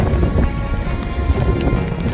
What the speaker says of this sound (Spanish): está lloviendo a pleno